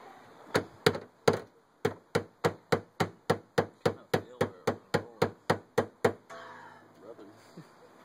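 Metal hammer blows strike a car fender on an RX8 during fender rolling, about twenty sharp, evenly spaced clangs in a brisk steady rhythm, close and loud, then stopping.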